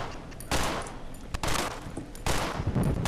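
Loud bursts of gunfire from the video game Cry of Fear, three heavy volleys roughly a second apart with sharp onsets and ringing tails, close and dominant with no talking.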